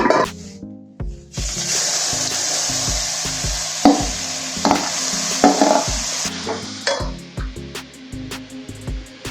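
Beetroot sautéing in a pan for halwa, a steady sizzle with scraping stirs and utensil clinks, close and moderately loud.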